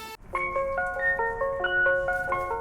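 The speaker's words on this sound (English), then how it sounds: "Is that Mr. Incredible in his ice cream truck?" An ice cream truck's chiming jingle plays a bright, repeating melody loud and close, steady throughout with no talking.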